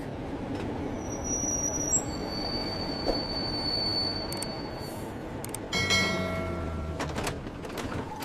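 A train rumbles past nearby with steady wheel noise, high metallic squeals from the wheels, and brief clattering bursts near the end.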